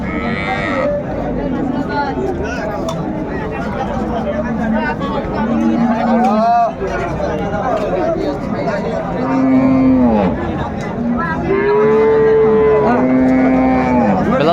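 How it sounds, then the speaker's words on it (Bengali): A cow with her calf at a cattle market moos several times in long, loud, drawn-out calls, over a busy crowd of people talking. "এখানে চমৎকার একটি গাভী বাছুর দেখছেন"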